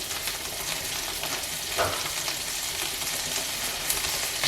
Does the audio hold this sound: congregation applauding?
no